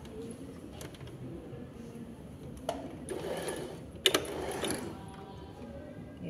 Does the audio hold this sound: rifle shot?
no